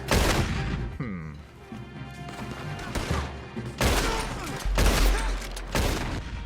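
Dense bursts of gunfire from a Red Dead Online shootout, rapid overlapping shots and loud cracks packed together over several seconds with brief lulls, close and loud.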